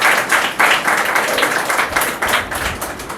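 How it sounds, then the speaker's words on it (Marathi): A church congregation applauds at a Sunday service to welcome visiting guests, with dense, loud, continuous clapping from many hands close by for about three seconds. "त्यांचं आपण टाळ्या वाजवून स्वागत करू."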